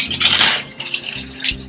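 Cold tap water runs and splashes into a kitchen sink, an uneven hissing gush with a few clinks of dishes or utensils nearby.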